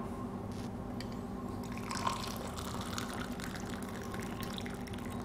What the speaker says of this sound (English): We're going to stick some scalding hot water in there and we're going to preheat our mug.